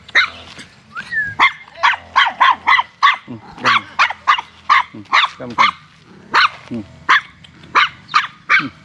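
A small dog barks in a rapid, steady series of sharp, high yaps, close and loud, with a faint low hum underneath and a brief spoken word mixed in.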